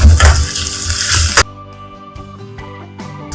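Curry leaves hit hot oil in a pan while cooking mutton kidney pepper masala, a loud burst of sizzling frying for over a second that drops to a quieter crackle with light clinks of a utensil against the pan.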